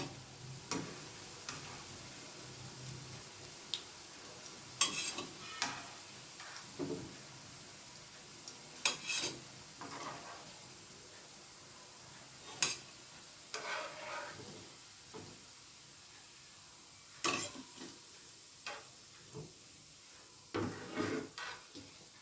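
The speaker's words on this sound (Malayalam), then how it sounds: "ബാക്കിയുള്ളതും ഇതേമാതിരി എടുത്ത് ഫ്രൈ ചെയ്യും" Soya chunks frying in a pan give a continuous low sizzle broken by sharp clicks and scrapes of a utensil turning them, spaced irregularly over a long stretch with no talk.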